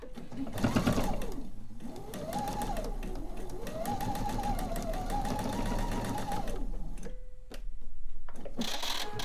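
A sewing machine stitching quilt fabric runs steadily, its rapid needle clatter continuous for several seconds before briefly stopping and starting again.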